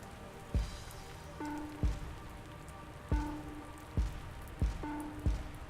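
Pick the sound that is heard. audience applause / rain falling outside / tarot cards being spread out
rain falling outside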